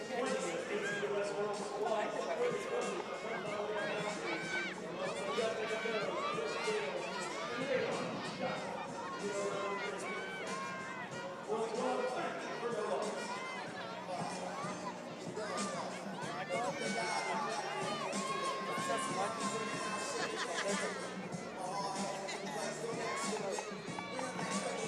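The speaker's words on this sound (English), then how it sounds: "that stirred the crowd up a little bit." A cricket match crowd stirs and rises in a steady, dense roar of cheering and chatter throughout, with a commentator's voice talking over it.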